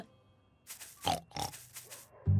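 A cartoon pig oinks in a few short snorting grunts spaced close together, near and clear, followed by a brief low thump at the end.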